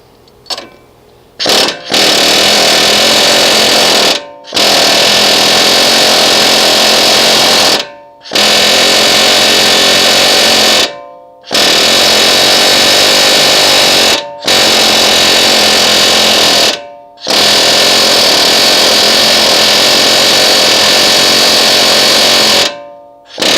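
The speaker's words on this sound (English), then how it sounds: "we're going to take our air hammer" Loud pneumatic air hammer rattling in long continuous bursts while chiseling rivets off front ball joints on a 1989 Chevy K1500 Silverado, stopping briefly several times between runs, harsh and close.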